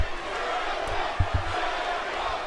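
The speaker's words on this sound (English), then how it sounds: "Oh, we got a mix of Cody and CM Punk chants." Wrestling arena crowd at a Raw event roaring and chanting in a steady, dense wash of many voices, with a few thumps and bursts rising out of the sustained mass of noise.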